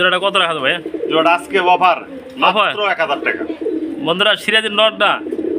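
Golla pigeons coo in repeated throaty rolling phrases, close and fairly loud, several birds overlapping in a steady run with short pauses.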